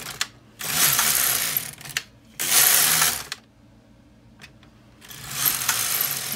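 The carriage of an LK 150 knitting machine slides across the needle bed as rows are knitted. It gives three loud ratcheting, clattering passes with short quiet pauses and small clicks between them.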